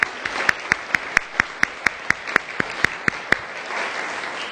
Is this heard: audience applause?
yes